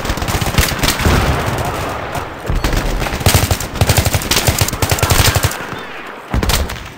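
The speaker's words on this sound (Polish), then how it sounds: "Otwieram ogień!" Gunfire crackles in Battlefield 3, with rapid machine-gun bursts and single shots in uneven rhythm, loud and close, with short pauses between volleys.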